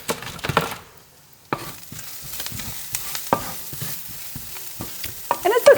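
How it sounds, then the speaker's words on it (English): Shallots and bacon fry in a pan, with steady sizzling and repeated scraping stirs of a utensil against the pan, close and fairly quiet, with no voices. "let me stir this before this burns"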